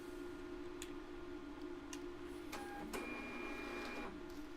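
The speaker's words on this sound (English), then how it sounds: "I just use my thermal printer to print out a little sheet that says my Facebook pages." A thermal printer runs off a small sheet with a steady motor whir and a few short clicks and feed bursts, close and alone in a quiet room.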